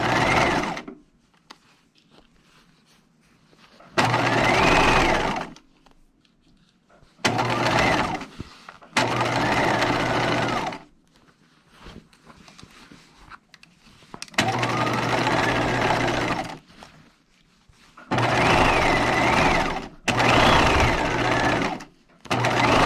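A sewing machine stitches a dress pocket bag in several loud, steady runs of rapid mechanical whirring, each lasting a second or two and separated by pauses filled with quiet handling sounds.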